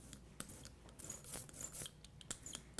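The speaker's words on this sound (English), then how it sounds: "Prep your ink by rolling it out thoroughly on the inking plate." Rubber brayer rolling block printing ink over an inking plate for linoleum printing, a faint, tacky, crackling rasp in repeated back-and-forth strokes, close and quiet with no talk.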